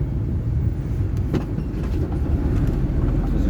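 A train rumbling along the track near a rod mill, a continuous low heavy roll with faint clicks over a few seconds.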